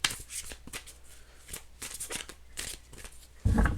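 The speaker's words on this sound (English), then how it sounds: "Two more shuffles." Crisp riffling of a tarot card deck, several quick shuffle bursts in close succession, near and fairly loud, ending in a louder bridge-like flutter.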